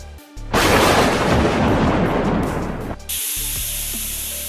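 Lightning strike from a cartoon storm god blasting a character: a loud, dense crackling roar bursts in and rolls for about two and a half seconds, then gives way to a sustained bright electric hiss with faint rumbles beneath.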